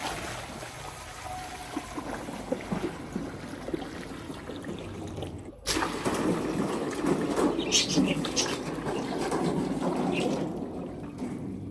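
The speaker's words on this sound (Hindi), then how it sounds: "अब इसमें पानी शामिल कर देंगे।" Water poured into a metal pan (kadhai) of ice for sikanjbeen sharbat, a steady splashing pour that starts midway and continues under a voice speaking nearby.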